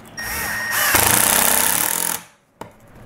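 Power drill driving a screw into a face frame board for a kitchen remodel, a loud, close whirring burst that ramps up and runs for about two seconds, stops abruptly, then a brief click.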